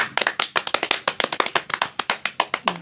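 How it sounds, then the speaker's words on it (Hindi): Children in a classroom letter-puzzle activity clap their hands in a quick, uneven series of sharp, close claps, roughly a dozen per second, with no talking. "तालियां बजाकर बताएं कि आपको कितना मजा आया"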